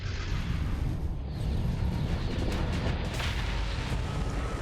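Starsector starship battle: heavy, continuous rumbling explosions and booming blasts, dense and loud throughout, with no voices.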